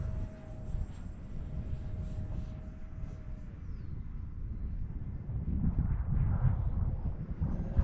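A Freewing F-5N 80mm electric ducted-fan RC jet flies at full throttle, producing a steady, fairly faint whine and whoosh with wind buffeting against the microphone and a high tone that falls away partway through.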